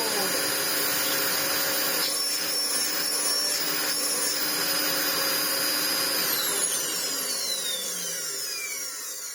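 A Dyson DC25 ball upright vacuum cleaner, just repaired and cleaned, runs on a floor with a loud, steady, high-pitched motor roar throughout, its whine gliding downward near the end as it winds down.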